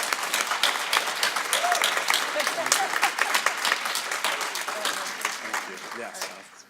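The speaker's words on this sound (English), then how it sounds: "Let's give them all a round of applause." An audience at a talk on civil discourse breaks into a sustained burst of clapping that carries on for several seconds and then fades out.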